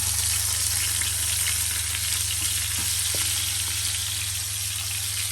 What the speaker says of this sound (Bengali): এখন আমি ইলিশ মাছগুলোকে ফ্রাই করবো।